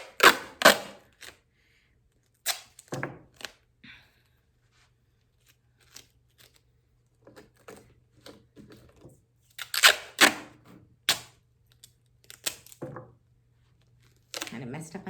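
Duct tape rips and tears in sharp, loud bursts, several pulls in irregular sequence close by during an upcycled craft build, with quiet talk between them.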